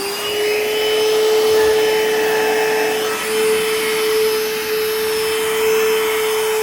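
A Panasonic Jet Flow handheld vacuum cleaner with a headlight runs steadily with a strong, even motor whine and airy hiss, close and loud throughout with no talking.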